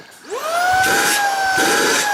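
A Tineco cordless vacuum cleaner on normal power whirs up quickly to a steady high-pitched whine, close by, with a rising tone at start and a breathy airflow underneath.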